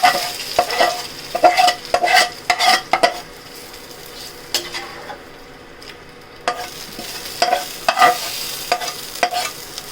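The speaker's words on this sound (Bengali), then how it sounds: "ফোড়ন দিয়ে দিচ্ছি ঢেলে দিচ্ছি ডালের ভিতরে ফোড়ন দিচ্ছি" A utensil scrapes and knocks rhythmically in a pot as hot spice tempering sizzles into sour dal made with drumsticks and green mango, the frying hiss steady beneath bursts of stirring.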